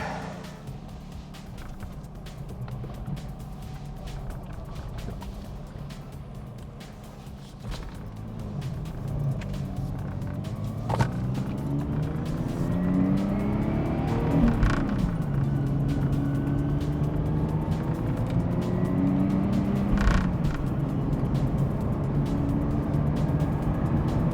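A Lexus IS300 converted from automatic to manual transmission pulls away and accelerates, its engine note rising through the revs and dipping at gear changes, heard steadily from inside the car.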